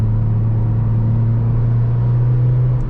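Steady, loud low engine drone from a Honda Mobilio car accelerating in gear on the road, a constant humming rumble throughout.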